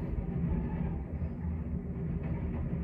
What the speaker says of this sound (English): Because we're right by the window and the train. Here comes another train.